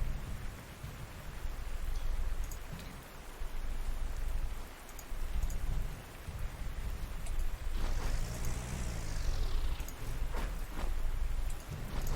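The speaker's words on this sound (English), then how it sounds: "Sadly, this rain has come at an inopportune moment." Steady rain hisses throughout in the Panzer Campaigns war game, a dense broadband wash with a brief swelling engine-like whoosh near the end.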